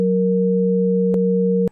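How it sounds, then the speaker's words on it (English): A synthesized sine wave tone, a pure, steady, loud pitch with a faint harmonic that holds unchanged for under two seconds, broken by a brief click midway and another just before it cuts off. "That's a lovely, annoying sine wave."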